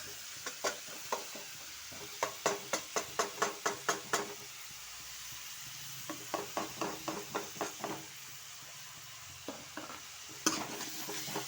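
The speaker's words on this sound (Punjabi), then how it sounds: "ਫਿਰ ਅਸੀਂ ਇਹਦੇ ਵਿੱਚ ਗੋਭੀ ਪਾਵਾਂਗੇ ਨਾਲ ਹੀ ਇਹਦੇ ਆਪਾਂ ਮਿਰਚਾਂ ਪਾ ਦੇਣੀਆਂ" Cabbage stalks and chilies fry in a pan while a utensil stirs them in quick repeated scrapes and clicks, coming in several bursts over a faint sizzle, close by with no talking.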